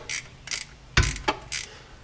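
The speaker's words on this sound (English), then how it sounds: "when tightening these bolts down" Small bolts on a transfer case are tightened during a U-joint replacement, heard as about five short, close ratcheting bursts in quick succession with no talk.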